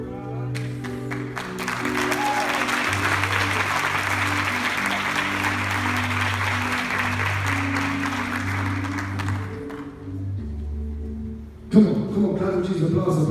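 A church congregation at a healing and deliverance service applauds in a loud, sustained wash of clapping that runs for about ten seconds over music and voices, then fades before louder talk resumes.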